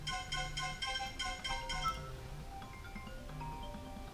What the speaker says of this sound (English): My phone always rings when I make a video.